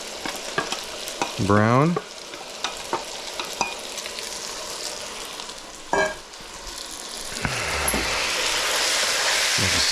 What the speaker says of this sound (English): I'm going to put my onions and garlic in here with this beef now